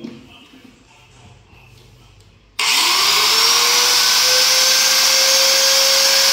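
A 570-watt grinder powered by a Bluetti AC50b power station switches on after a quiet moment and spins up with a loud, rising whine that settles into a steady, piercing high-pitched roar.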